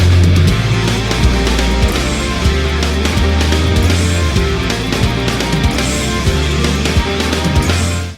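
Two layered parts of distorted, harmonised hybrid-picking guitar play together in a dense progressive metal passage, loud and continuous with steady rhythmic low-end hits, no talking.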